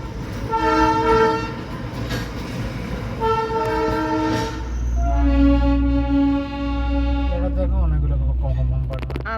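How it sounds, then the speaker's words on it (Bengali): A Darjeeling toy train at Ghum station sounds a loud, sustained whistle in several long blasts, near and prominent, with rumbling engine noise and people talking underneath. "ওই যে ট্রেনটা,"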